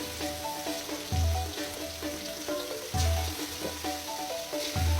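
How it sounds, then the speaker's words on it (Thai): Slices of pork neck fry in a pan with a steady crackling sizzle, punctuated by periodic soft thumps and scrapes as the meat is stirred and turned. "ค่อยๆใส่หมู สันคอลงไปค่อยๆใส่ไปทีละแผ่นทีละแผ่น"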